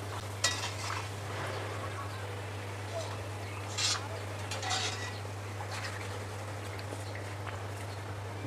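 Bati chips frying in hot oil give a steady, faint sizzle with a few brief clinks of utensils against the pan, under a constant low electrical hum.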